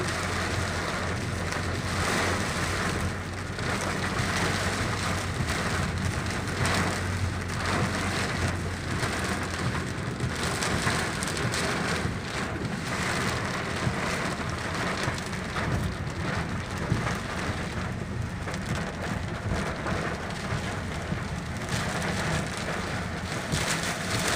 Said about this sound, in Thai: โอ้ฝนไม่เบาเลยครับ